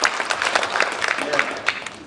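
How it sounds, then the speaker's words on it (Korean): At the 2015 political event 가자! 희망한국, an audience claps and cheers as a party representative comes to the stage, with crackling applause at moderate loudness and voices mixed in over it. "박수와 함성 보내주세요"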